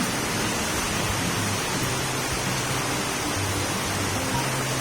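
Typhoon Hanna's heavy rain falls as a constant loud roaring wash, dense and even from start to finish with no pauses.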